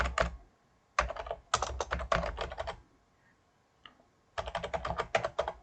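Computer keyboard typed in several quick bursts of clicking keystrokes, close and clear, with short pauses between the runs of keys while a CAD text command is entered.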